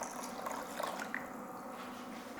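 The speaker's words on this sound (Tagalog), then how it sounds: "maglalagay na ako ng tubig" Water pouring into a cooking pot for batchoy Tagalog soup, a steady close splashing gush filling the pot, even and continuous for the whole stretch, no talking.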